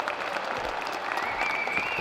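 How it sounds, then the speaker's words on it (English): Spectators at a pasty crimping contest at the World Pasty Championships applaud the contestants. The clapping is a steady, moderately loud wash of claps that runs throughout, with no clear talking on top. "round of applause for our contestants,"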